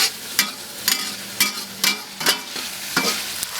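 Scallion and fermented black beans sizzle in a wok while a spatula scrapes and tosses them in a steady rhythm of about two strokes per second, close and fairly soft.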